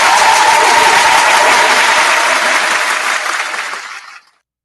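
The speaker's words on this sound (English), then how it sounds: "A round of applause for We Don't Take Breaks." A loud, dense burst of clapping and cheering fills the space and then fades away to silence at the end, with no talking over it.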